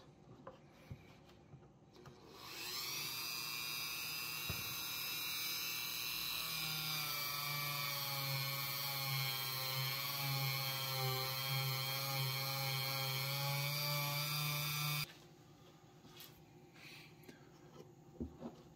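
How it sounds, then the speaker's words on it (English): A Dremel rotary tool fitted with a fine abrasive wheel grinds steadily on old, faded plastic, a loud continuous high-pitched whine that holds for about twelve seconds, then cuts off into quiet. "We got the Dremel tool and abrasive discs done."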